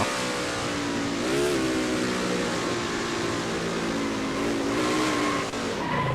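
Onboard engine roar from a race car on the oval at Texarcana Motor Speedway, sim racing league event, steady loud drone with rising and falling pitch as it works through a corner, a brief tire-skid wobble near the end.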